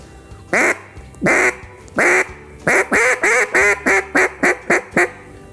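A duck call sounds a series of loud, nasal quacks imitating a hen mallard, a few spaced calls followed by a faster run of about eight.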